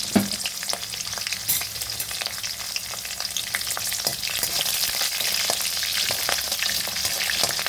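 Green chillies and a pinch of salt fry in a pan over a high flame for a kalmi greens dish, producing a steady, close sizzle dotted with small crackles and the occasional clink.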